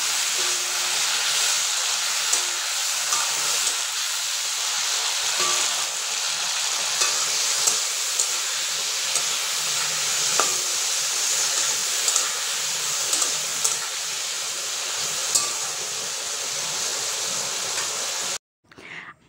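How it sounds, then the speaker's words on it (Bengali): Yardlong beans frying in oil left over from making fritters, an even, steady sizzle and hiss with occasional faint stirring clicks, cutting off briefly near the end. "এখন আমি এখানে বরবটিগুলোকে ভাজবো ওই তেলেই"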